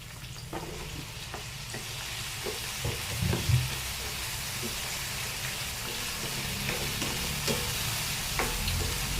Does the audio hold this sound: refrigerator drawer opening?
no